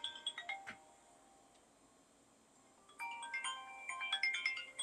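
Electronic phone ringtone for an incoming call, bursts of bright melodic tones near the start, a quiet pause, then a louder repeating run of chiming notes, close and clear with no talking.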